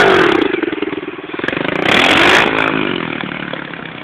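A 110cc pit bike engine revs hard during a wheelie, a loud, close, buzzing roar that swells and eases with the throttle over a few seconds.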